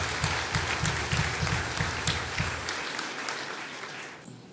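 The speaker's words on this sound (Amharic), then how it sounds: "አጨብጭቡለት፣ አጨብጭቡለት።" A church congregation at a prophet's service claps briefly, a steady wash of applause over soft rhythmic low thumps. It fades out after about four seconds.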